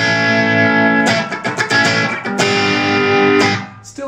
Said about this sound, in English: I can cheat a little bit and switch on the reverb.